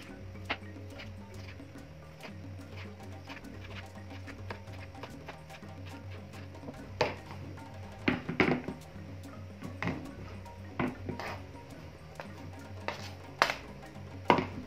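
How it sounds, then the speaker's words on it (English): Kitchen knife cutting washed tomatoes for kachumbari, a Kenyan salad: scattered sharp taps, sparse early and then quicker, louder clusters of chops on the board, over a low steady background hum with no talk. "let's start cutting the tomatoes"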